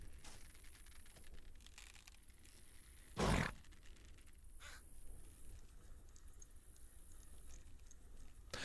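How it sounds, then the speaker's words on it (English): A crow caws once at night: a single short, harsh burst stands out over a faint, quiet background, with no talk. "Why the fuck did I hear a crow?"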